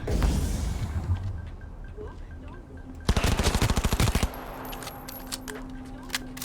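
Rapid bursts of pistol fire ring out in Cyberpunk 2077, a dense string of sharp shots lasting about a second, with scattered single shots and game combat noise before and after.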